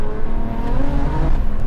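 An 800bhp single-turbo BMW M3 engine pulls hard under acceleration, a loud, steady roar heard from inside the car with no gaps.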